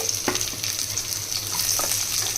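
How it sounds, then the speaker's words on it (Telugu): Chopped onions frying in a pan give a loud, continuous sizzle close to the mic, with a few clinks and stirring scrapes breaking through and no talking. "ఇప్పుడు ఇలా కొంచెం వేగిన తర్వాత ఇందులోనే ఈ తరిగిన ఉల్లిపాయ ముక్కలు వేసేసుకోవాలి"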